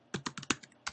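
Typing on a computer keyboard while writing Java code for a LeJOS EV3 robot class: about seven quick, close key taps in a short irregular burst, with no talking.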